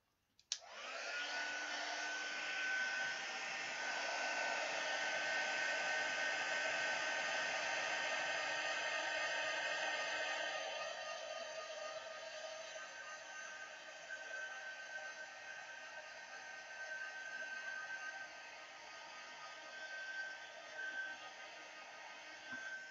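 A heat gun blows steadily and loudly for about twenty seconds, melting embossing powder during a crafting session, with a broad hiss that eases slightly partway through and continues without speech.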